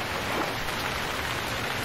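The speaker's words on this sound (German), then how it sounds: "Oh, jetzt ist der Regen wieder so laut." Heavy rain in the survival video game Stranded Deep makes a dense, constant hiss of falling water, loud and unbroken across the short stretch with no other sounds.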